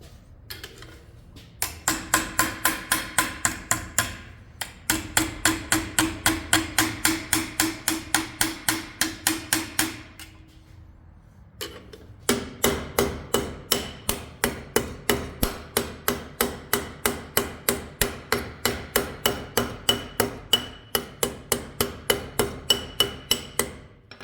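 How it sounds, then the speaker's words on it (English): Metal snips cutting along a line, a rapid run of sharp, evenly paced clicking snaps close by, two bursts separated by a brief pause, with no talking. "Let your snips run right on the line of your initial cut."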